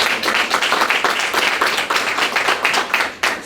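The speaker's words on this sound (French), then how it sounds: "oui, vous pouvez l'applaudir." Loud audience applause at a town press conference for Berthierville's 350th anniversary, a close, dense burst of many hands clapping continuously, briefly dipping near the end.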